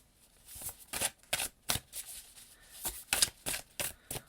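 Oracle cards from a Messages from the Psalms deck shuffled by hand, a run of crisp papery riffling bursts in an uneven rhythm, close and fairly quiet, with no voices.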